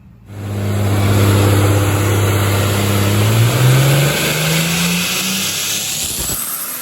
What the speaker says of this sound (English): All right, guys, so dyno is done.